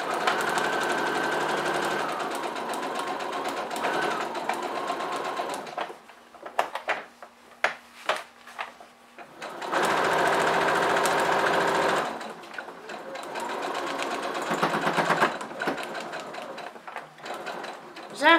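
A domestic sewing machine runs in steady bursts, stitching a fabric roll-up pencil pouch, with pauses in between where the needle is planted and the work turned. Someone speaks over the motor.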